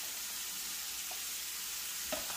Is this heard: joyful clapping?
no